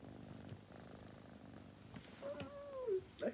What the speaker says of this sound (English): You hear that purr?